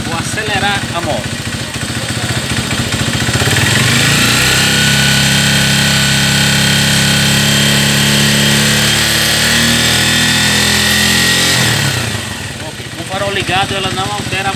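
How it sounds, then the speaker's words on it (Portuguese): A 2010/11 Mirage 150 motorcycle engine, with a fault keeping it from charging the battery, revs up and holds at a high, buzzing pitch for several seconds, loud and close, then drops back toward idle. "Agora eu vou acelerar a moto."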